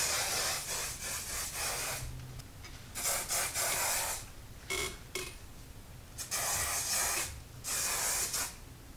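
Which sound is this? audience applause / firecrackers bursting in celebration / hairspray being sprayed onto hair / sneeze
hairspray being sprayed onto hair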